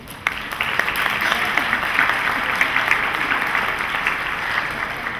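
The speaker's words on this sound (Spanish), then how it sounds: "el ingeniero Víctor Sánchez, para que pida un aplauso." An audience at an education seminar applauds steadily, a dense even wash of clapping from many people that continues throughout at moderate loudness, with some voices mixed in.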